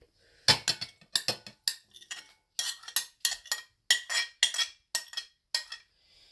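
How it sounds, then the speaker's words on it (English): Pakora ingredients are dropped and tipped into a bowl, giving a quick run of sharp clinks and knocks from spoons and dishware. The impacts are close and distinct, with short gaps and no talk. "Put all of them inside this bowl."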